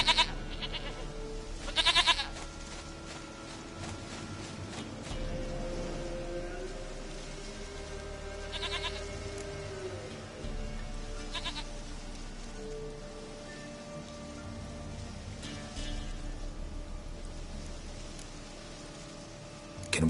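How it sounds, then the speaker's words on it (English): A goat in a PS4 video game bleats a few times over a steady bed of rain, with the bleats distinct but not loud and no talking. "Goat of mine, dearest, sweetest goat."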